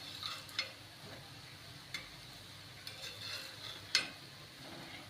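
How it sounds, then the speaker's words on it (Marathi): Potato slices frying on a flat tawa, a faint soft sizzle broken by a few sharp clicks and taps of a spatula turning them, no voices. "बटाटे मी तव्यामध्ये लावून घेतलेली आहेत तळण्यासाठी"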